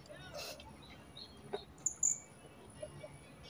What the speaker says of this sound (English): What animal is that? Seagull.